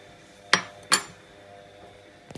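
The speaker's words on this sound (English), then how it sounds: "I just take a spoonful of each coffee and mix it together" A metal spoon scoops and stirs instant coffee blended from two tins, giving two sharp close clinks in quick succession and a softer scrape of metal at the end, with quiet gaps between.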